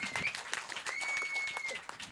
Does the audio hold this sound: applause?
yes